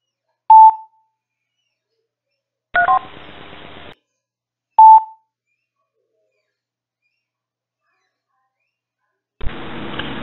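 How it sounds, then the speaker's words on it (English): Two short, clear electronic telephone beeps a couple of seconds apart, separated by bursts of broadband noise, with quiet gaps between. "Let me let it beep again."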